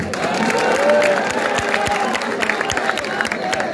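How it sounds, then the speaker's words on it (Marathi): A crowd at a political rally cheering and clapping, a dense roar with scattered claps and shouts that holds steady before thinning slightly. "आज हा जो काही जल्लोष आहे"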